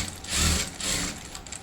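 A sewing machine stitching the front of a blouse runs in two short whirring bursts close up, its mechanical rattle rising and easing in quick succession.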